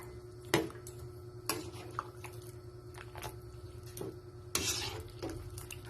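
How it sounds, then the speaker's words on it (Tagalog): Soft scraping and occasional clinks of a spoon stirring shrimp sinigang soup in a pot, with a low simmering hiss underneath; quiet and close, no voices. "Halo-haluin lang natin."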